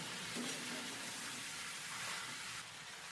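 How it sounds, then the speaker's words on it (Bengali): Chickpeas fry in a pan with a steady, dense sizzling hiss and occasional soft stirring movements, fairly quiet and continuous with no voices. "নেড়ে চেড়ে ছোলাটাকেও কিছুক্ষণ ভেজে নেব"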